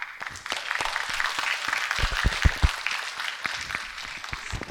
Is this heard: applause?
yes